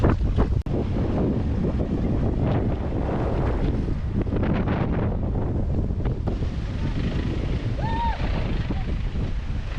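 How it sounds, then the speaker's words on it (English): Strong wind gusts roar across the microphone at farm dams in the wheatbelt, a loud, constant rushing buffet with a brief thud early on. "It's really windy at the dams."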